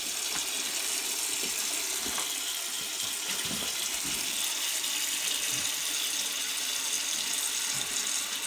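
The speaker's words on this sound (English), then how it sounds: "You fill your sink up," Water from a tap pours steadily into a kitchen sink that is filling up, a constant close hiss and splash that runs unbroken with no speech.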